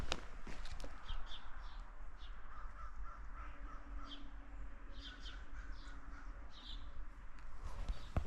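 Crows caw repeatedly in the distance outdoors during a hunt for invasive birds, harsh calls arriving in short irregular bursts over faint rustling and footsteps.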